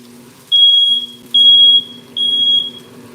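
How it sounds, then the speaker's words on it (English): A kitchen smoke alarm sounds three loud, piercing electronic beeps, each about half a second long and evenly spaced, over faint background hum while chicken cooks on the stove. "And there is my fire alarm."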